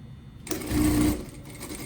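A JACK A5E industrial sewing machine makes a short burst of stitching, a quick mechanical whir lasting under a second after a faint hum, close and clear.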